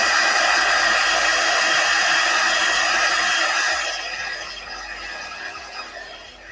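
A hair dryer blows a steady, loud whoosh while drying chalk paste on a 9x12 wooden pallet sign, running strongly for several seconds before easing off and fading lower toward the end.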